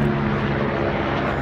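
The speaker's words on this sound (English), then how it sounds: "That's a nice helicopter." A helicopter passing overhead gives a loud, steady rotor and engine roar that fills the whole moment with no break, close and dominant, with no one talking over it.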